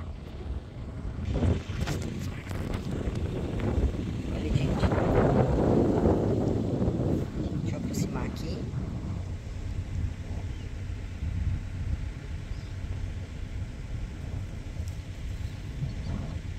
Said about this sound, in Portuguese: Tá ventando bastante, eu acho que tá escutando até o chiado aqui do, do vento.